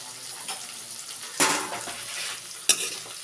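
Spices are mixed with chana dal and fenugreek greens in a pan, with a few scraping spoon strokes and clanks against the metal over a soft frying hiss, close and without talk.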